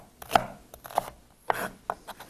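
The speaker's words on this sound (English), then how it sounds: "just give it a quick chop" A knife chops vegetables on a cutting board at home, about half a dozen crisp, close knocks in an uneven rhythm with brief pauses between strokes.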